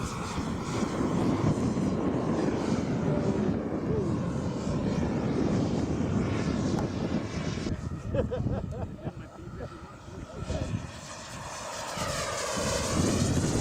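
An HSD F-16 turbine-powered model jet taking off: a loud, steady turbine roar and whine fills the whole stretch, close at first, with outdoor wind noise and a brief dip before the engine swells again.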